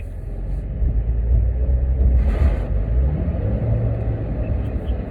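A Porsche 911 is driven hard, its engine rumbling loud and close with a steady roar and a brief rise as it pushes on, no talk.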